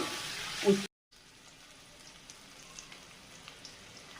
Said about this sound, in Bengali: সামান্য একটু হলুদ দিয়ে উচ্ছেগুলো আমি ভেজে নিচ্ছি।